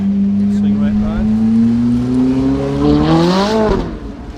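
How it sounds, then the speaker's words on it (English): Classic Mille Miglia cars running through a time trial near Lake Garda, one engine droning and rising in pitch as it revs and passes close by, then fading out at the end. "You can hear the cars in the background as they go through the time trial."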